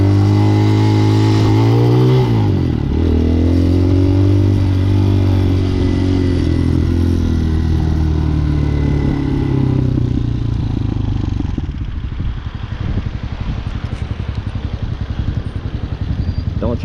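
A street-legal dirt bike rides through traffic, its loud, close engine droning and rising and falling in pitch as the rider shifts and accelerates, with heavy wind rush throughout.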